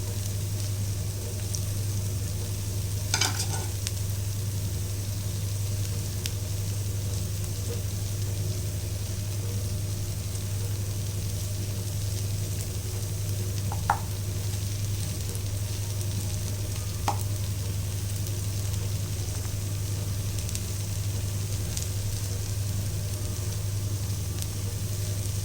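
Dosa batter sizzles steadily on a hot pan, a continuous close frying hiss over a low hum, with a couple of faint clicks and no talking.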